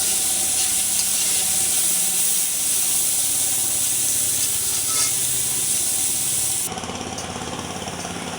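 Potatoes frying in a small amount of oil, a steady loud sizzle that holds throughout and drops slightly in level near the end.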